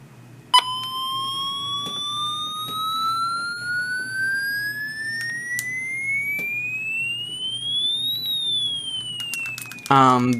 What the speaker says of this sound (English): to test the siren, you click the test button here on the side